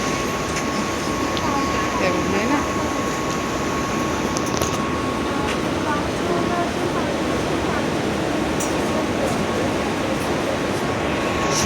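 A train at Panvel railway station gives a steady, loud rumbling roar that fills the whole stretch without pause, with a brief spoken phrase near the start.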